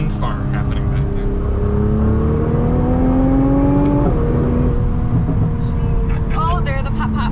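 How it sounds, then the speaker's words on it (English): 2021 Nissan GT-R turbochargers whooshing under acceleration, a rising whistling whine climbing in pitch over loud engine drone, then dropping at a shift before building again, with people talking over it. "Listen to those turbos. I know, it's like a wind farm happening back there."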